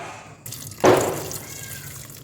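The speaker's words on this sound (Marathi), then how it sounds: "आता याच्यामध्ये पाणी ओतून घ्यायचे शेंगा बुडेपर्यंत पाणी ओतून घ्यायचे" Water is poured into a pressure cooker holding fresh unshelled peanuts, a sudden close splashing gush that settles into a steady trickling fill, alone without talk.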